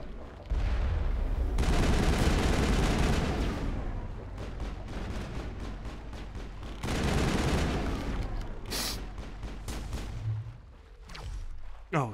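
Sustained gunfire from a Mass Effect battle, dense rapid bursts and booming shots in long loud stretches with brief lulls, thick and close throughout.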